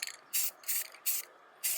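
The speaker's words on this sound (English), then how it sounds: "after spraying the door evenly in between the crevices" Four short bursts of a paint sprayer hissing while spraying an interior door, each about a quarter second long, with brief quiet gaps between them.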